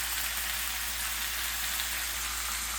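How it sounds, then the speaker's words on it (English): Beef for birria sears in a hot pan with beef fat, giving a steady, close sizzle and crackle without any voices. "Alright, listen to that sear."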